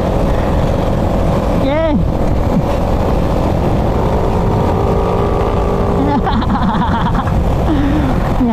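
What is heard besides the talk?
Raider motorcycle engine revving with faulty carburetor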